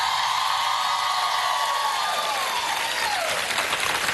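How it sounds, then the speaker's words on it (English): Studio audience applause on a live daytime talk show, a steady, even wash of clapping that holds loud and full throughout without any voices over it. "I'm so glad y'all applauded because I was getting worried if you didn't."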